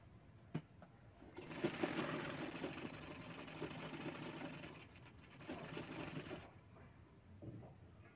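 A sewing machine stitches a sleeve onto a kurti, running in a fast steady whir for several seconds, briefly easing and resuming, then stopping, close and moderately loud.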